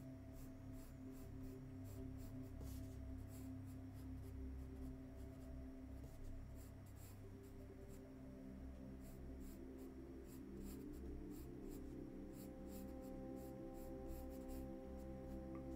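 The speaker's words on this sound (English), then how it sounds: "You get to see my terrible writing now." A pen writes the word cinema by hand on paper for a ticket drawing. Quiet scratching strokes come in short bursts and pauses, close to the mic, over a faint steady hum. No one speaks.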